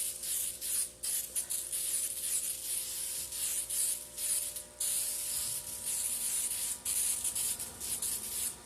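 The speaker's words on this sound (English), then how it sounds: "But what I'll do is I'll spray the inside again." Short bursts of aerosol spray hiss close by, pulsing in a steady rhythm with brief pauses between each spray.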